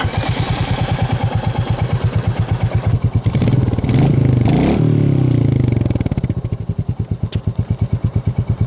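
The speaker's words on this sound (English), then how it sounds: "This Royal Enfield's long stroke engine still makes a nice thump sound." A Royal Enfield single-cylinder long-stroke motorcycle engine idles close by with a slow, steady thumping beat, briefly swelling into a louder rev midway before settling back to its even thump.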